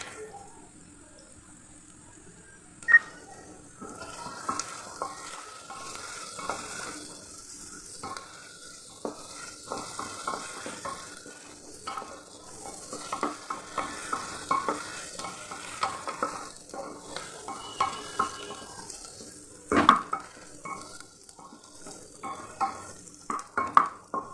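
Onions fry in a pan until light pink: a soft, continuous sizzle runs throughout, with frequent close scrapes and taps of a spoon stirring against the pan and one sharper clank near the end.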